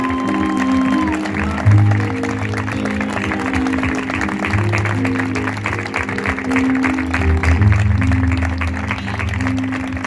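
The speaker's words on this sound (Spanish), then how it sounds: "Por favor, un fuerte aplauso para todos ellos" Steady applause from a concert audience at a tribute event in Alcalá, dense clapping sustained for about ten seconds over a low musical hum, fairly close and even in level throughout.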